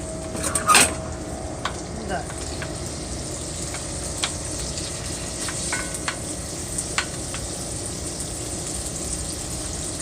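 Bacon frying in hot grease in a cast iron pan, a steady soft sizzle with scattered crackles and pops, fairly quiet and close, with a brief clink of utensils near the start.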